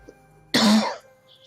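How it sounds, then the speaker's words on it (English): A single short, loud cough from a narrator, sharp and close, standing alone over a faint hum of background music. "Quick cough."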